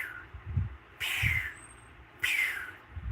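A bird repeats the same call, each note a loud descending whistle that returns after a pause of about a second, close by over a low background rumble.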